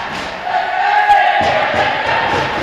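Crowd noise at the Australian Broomball Nationals 2019 finals, a dense, sustained roar of voices and cheering from a large audience, swelling slightly after the first half-second and holding steady throughout.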